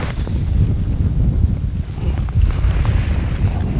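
Strong wind blows on a Florida lake during a cold day of bass fishing from a boat, a steady loud rumbling buffet of gusts striking the microphone throughout, with no other clear sounds.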